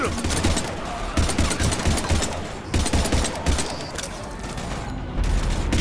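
Dense gunfire in the video game Mass Effect Legendary Edition, rapid bursts of automatic shots crackling almost without pause, loud and close, with game sound and voices underneath.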